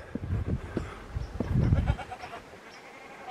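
Goats on a farm bleating and grunting near the feeder as they are given grub, several short calls close by with some rustling, no talking.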